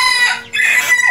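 Two-month-old Tân Châu bantam chicks cluck loudly and close by in two quick bursts, with no voices.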